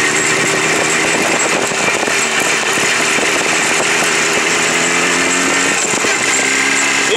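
A Jawa motorcycle engine runs loud and close while the bike rides over a rough, rutted road, giving a steady, raspy buzzing drone that holds throughout and rises slightly near the end.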